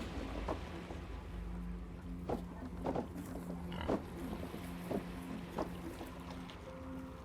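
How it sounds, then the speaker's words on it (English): Pigs in a video game snort and oink in short, spaced grunts over a low steady game ambience, with a soft tone near the end. "The pigs are even unloading things."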